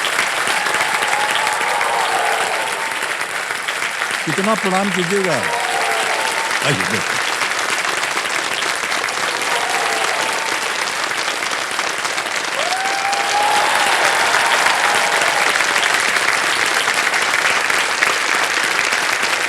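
Steady, dense applause from a TV quiz show studio audience fills the clip from start to finish, with a host speaking briefly over it.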